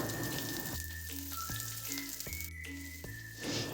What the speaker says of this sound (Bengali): তেল গরম হয়ে গিয়েছে, এর মধ্যে আমি রাঁধুনি দিলাম আর দেবো কটা কাঁচা লঙ্কা